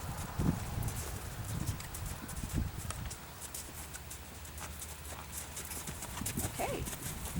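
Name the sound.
horse hooves cantering during a riding lesson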